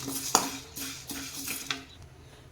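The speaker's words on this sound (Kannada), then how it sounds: "ಅಕ್ಕಿ ಬೇಳೆ ಅರ್ಶಿನ ಕೊಂಬನ್ನ ಈಗ ನಾನಿಲ್ಲಿ ಫ್ರೈ ಮಾಡ್ಕೊತಾ ಇದ್ದೀನಿ ನೋಡಿ" Rice, lentils and turmeric root dry-roasting in a pan for sambar powder, with a spatula scraping and tapping the metal in a loose repeating rhythm, close and fairly loud.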